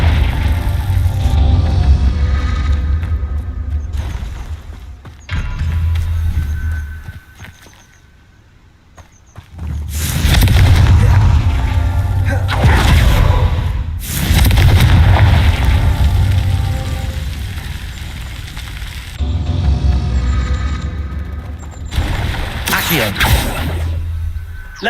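Spell blasts from the Confringo explosive charm in Hogwarts Legacy, heavy booming bursts recurring several times across a loud fiery battle, with a voice calling out spell names throughout.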